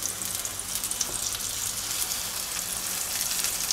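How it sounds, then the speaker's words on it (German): A burger patty sears in a hot pan, a dense, even, crackling sizzle that holds close and steady throughout with no talk over it. "das Patty muss jetzt mal richtig schön anrösten von der einen Seite"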